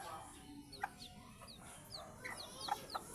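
A pure labuyo wild junglefowl chick gives several thin, high peeping chirps at a steady pace, clear but modest above a soft constant background.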